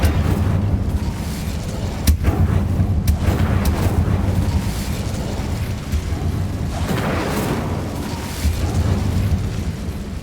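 An Incendio fire spell from Hogwarts Legacy bursts and roars as it burns away webs, with loud booming whooshes and sharp cracks rising over a constant rumbling game soundscape.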